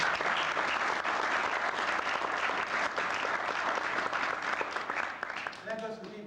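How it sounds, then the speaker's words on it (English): Employees give a steady round of applause at a company end-of-fiscal-year gathering, dense and sustained for several seconds before a voice speaks near the end. "a little round of applause for all of you guys, too"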